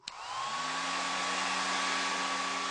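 Ten hair dryers running at once build from a quick start into a loud, steady whooshing roar with a faint whine, sustained without pause and with no talking.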